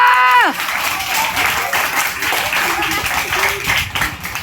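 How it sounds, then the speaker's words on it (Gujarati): A group claps in a classroom-like setting right after a cheer. The applause is loud and close, a dense patter that holds steady for several seconds, and a voice rings out briefly at the start. "તાળીઓ."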